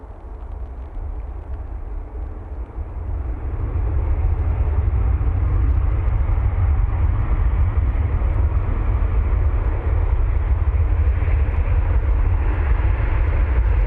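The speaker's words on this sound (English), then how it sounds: "Virgin Atlantic now about to touch down, using their A350 1000 for this flight." Virgin Atlantic Airbus A350-1000 touching down at Manchester Airport, a steady broad roar of engine and airflow noise that swells after the first few seconds and holds loud and continuous.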